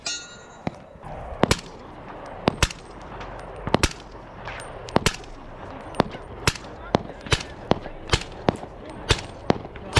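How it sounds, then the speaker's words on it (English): A suppressed 7.5-inch 300 Blackout rifle fires a steady string of shots at steel plates, sharp muffled cracks roughly every half second to second, each followed by a faint metallic ring from the targets. "just let you guys enjoy the sounds of the suppressor"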